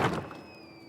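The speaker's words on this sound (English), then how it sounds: "Who opened the door?" A door opens in the Diablo IV video game with one solid low thunk, followed by a faint, thin ringing tone that fades out.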